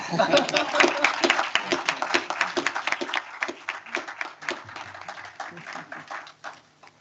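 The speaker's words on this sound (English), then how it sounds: "I think he deserves a clap." A crowd claps together in a burst of applause that thins out and fades toward the end.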